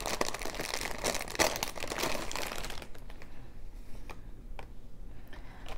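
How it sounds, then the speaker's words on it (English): Crinkling of a plastic wrapper or bag as something is taken out, loud dense crackling for about three seconds and then thinning to sparse, quieter crinkles and ticks. "Sorry for the crinkling."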